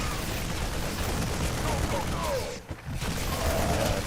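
Rapid gunfire from defensive turrets in the StarCraft II real-time strategy game crackles in dense, continuous bursts with a brief lull, layered under other game sounds and faint voices.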